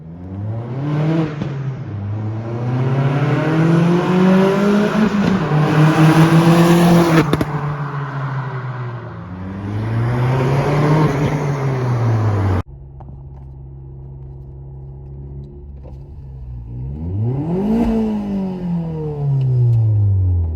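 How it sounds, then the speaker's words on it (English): A privately owned car passes by repeatedly, its engine rising and falling in pitch as it approaches and recedes, loud revving flybys heard alone without talk. "here's some flybys of my car and how it sounds"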